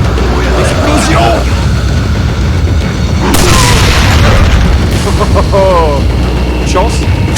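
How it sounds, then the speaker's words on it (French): A loud in-game explosion in Resident Evil 4, with deep booming bursts and crackling blasts spread over several seconds amid dense game noise. "Ah, explosion."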